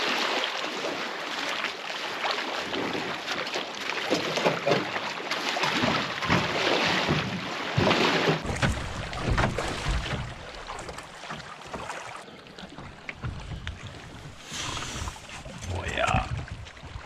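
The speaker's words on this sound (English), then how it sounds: "Okay, we are in the canoe." Canoe paddling on a lake, with water sloshing and splashing against the hull under steady outdoor wind noise, while a person talks close by throughout.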